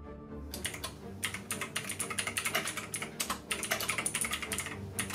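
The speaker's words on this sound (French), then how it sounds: "La frappe avec des switches bleus est bien sûr extrêmement bruyante" Steady, rapid clatter of typing on a budget RGB keyboard with blue mechanical switches, sharp clicky keystrokes close and loud, running continuously after a brief quiet start with no voices.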